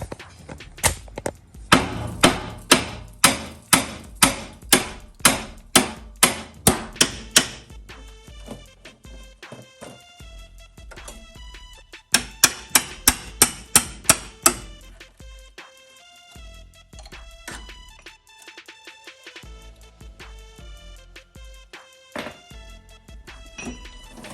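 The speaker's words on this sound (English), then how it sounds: "I'm gonna get the sledgehammer and the chisel." A sledgehammer strikes a chisel against the underside of an 82-92 Chevy Camaro, sounding as sharp metallic blows in rapid even runs, two loud bursts of about a dozen hits each, then lighter, irregular tapping and ringing between them.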